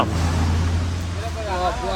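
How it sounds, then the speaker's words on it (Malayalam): Traffic on a forest road heading to Kottiyoor in Kannur, Kerala, with vehicle engines droning steadily and passing nearby as a voice talks over them. "ഇത് ഒരുപാട് വാഹനങ്ങൾ പോയിക്കൊണ്ടിരിക്കുന്നുണ്ട്"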